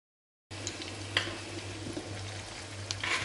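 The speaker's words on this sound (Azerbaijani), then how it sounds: "Tavada soğanımı kızardım." Onions frying in a pan on the stove, a steady close crackling sizzle that holds evenly throughout with faint small ticks and no talking.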